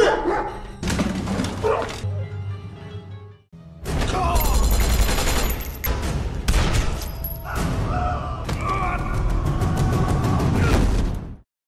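Sustained loud bursts of rapid gunfire fill most of the stretch, broken by a brief pause, with dense crackling shots and no speech.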